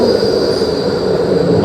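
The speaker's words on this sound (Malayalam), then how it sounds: "നമ്മുടെ ട്രാം എത്തിയിരിക്കണം." A Melbourne tram pulls in at a stop at night, a loud, close rail rumble with a steady high metallic wheel squeal through the brief moment.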